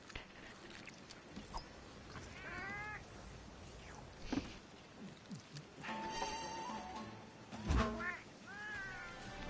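A cat meows repeatedly in a video game cutscene, several rising and falling cries spread among thuds, rustles and background game sounds, with no one talking.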